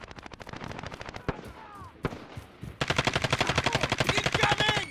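Rapid automatic gunfire from a Call of Duty Modern Warfare Warzone match, steady bursts of close shots that pause briefly and then return louder and denser, with faint radio chatter underneath.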